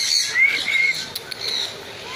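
Birds inside a zoo bird house in Odisha give thin, high calls and squawks, with wing flaps and faint rustling against a roomy, murmuring background; nobody speaks clearly.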